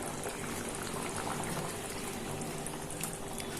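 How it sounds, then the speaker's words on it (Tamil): Omelette gravy simmers in a pan with a steady, dense bubbling and popping that stays close and even throughout, and nobody talks. "பாருங்க, இது நல்லா கொதிச்சிருச்சு."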